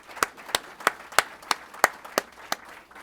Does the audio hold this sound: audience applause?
yes